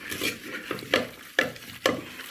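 Vegetables for a vegetable soup being roasted and stirred in a pan, a soft frying hiss punctuated by four sharp scraping strokes of a spatula at a steady rhythm, close and alone.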